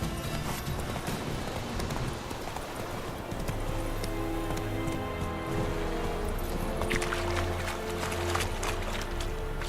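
Horse hooves gallop steadily in The Witcher 3: Wild Hunt video game, a continuous rhythmic clip-clop over tonal game ambience and music, with no talk.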